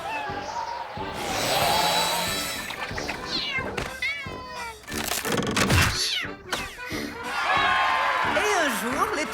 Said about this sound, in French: sauver les chats en détresse.